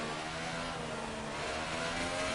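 A Formula 1 race car engine strains down the Wellington Straight at the British Grand Prix, a steady high-pitched whine holding under full throttle, fairly faint and alone.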